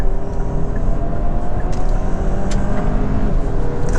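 A 2025 Kia K5 GT 2.5T engine drones loudly and steadily from inside the cabin, a dense sustained roar with road noise, building as the car accelerates hard to pass.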